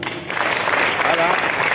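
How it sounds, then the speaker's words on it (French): Applause fills a ceremonial hall as the Kempo Federation is greeted at a dan-grade award event, with a crowd clapping steadily and loudly throughout. "On acclame."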